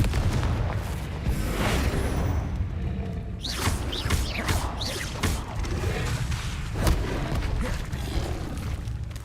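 The Confringo explosion spell in the video game Hogwarts Legacy gives a run of booming blasts and sharp whooshes over dense, continuous game noise.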